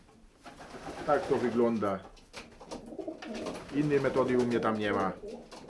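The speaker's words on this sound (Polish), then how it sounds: "I tu się znajdują gołębie młode." Young pigeons coo in a loft, soft repeated throaty calls under someone talking close by.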